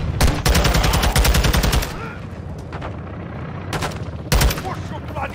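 Gunfire in the Modern Warfare 2 video game campaign: a loud, close burst of rapid automatic fire, then a quieter stretch of rumbling battle noise and a few more shots.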